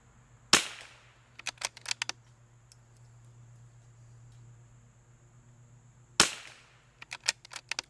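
.22LR rifle fired from a bag at long range, two sharp cracks about six seconds apart, each followed by faint clicks and handling noises in a quiet setting.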